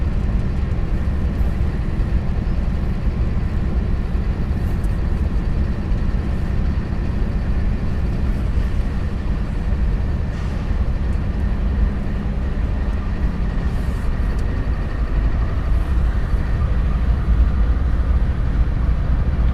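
Locomotive 173 idles and rumbles right in front of the listener in the NS DeButts rail yard, a heavy continuous low diesel drone holding steady for nearly twenty seconds with no talk.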